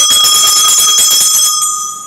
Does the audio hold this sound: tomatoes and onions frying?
no